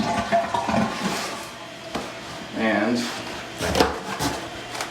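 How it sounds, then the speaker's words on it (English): A household toilet flushing after a repair, water rushing and gurgling in bursts with clunks of the tank mechanism, close by, while a person talks over it. "now you flush the toilet, and it flushes."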